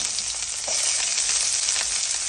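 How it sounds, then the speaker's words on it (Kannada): Mustard seeds and chopped onion sizzle and crackle in hot oil for a tempering, a steady, close, fairly loud hiss with scattered pops and no voices. "ಸಾಸಿವೆ ಹಾಕಿದ ತಕ್ಷಣ ಅದು ಸಿಟ್ಲಾದ್ಮೇಲೆ ಈರುಳ್ಳಿ ಹಾಕೊಂಡ್ಬಿಡಿ"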